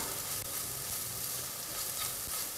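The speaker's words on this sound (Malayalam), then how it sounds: "ഈ പൊടികളുടെ എല്ലാം പച്ചമണം പോകുന്നത് വരെ നമുക്ക് നന്നായിട്ട് ഇതൊന്ന് വഴറ്റിയെടുക്കണം." Spice powders, including coriander, garam masala and asafoetida, are sautéed and stirred in a pan for paneer masala. The result is a continuous, even sizzling hiss with no talk.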